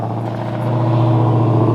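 A Dodge Demon engine rumbles steadily and close, its deep idle swelling slightly louder partway through, with no talking.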